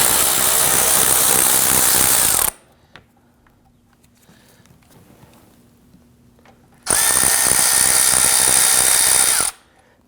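A power tool backs out T30 Torx screws from the splash shield under the engine cradle of a 2009-2017 Volvo XC60, running in two loud whirring bursts with a quiet pause between them.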